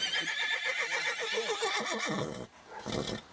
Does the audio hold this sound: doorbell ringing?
no